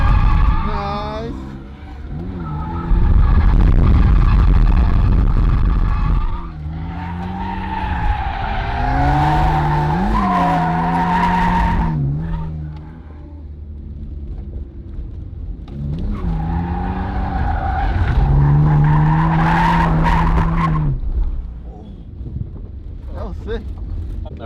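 Two drift cars run in tandem at a drift event, with loud, close tyre squeal and skidding over engines revving in long rising and falling sweeps, plus buffeting wind noise.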